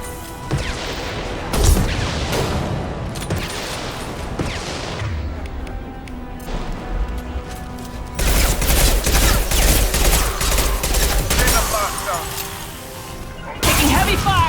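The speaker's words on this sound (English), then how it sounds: "Taking heavy fire!" Gunfire in the video game Mass Effect 2 arrives as rapid bursts and volleys with crashes and booms, dropping briefly and then returning loud and heavy, with a voice heard at times.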